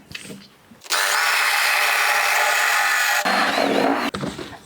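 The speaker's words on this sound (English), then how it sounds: "drill some holes to feed the cables through" A power drill bores into a cheap particle board coffee table, the motor whining loud and steady for a few seconds before briefly slowing and starting again, with faint talk before it begins.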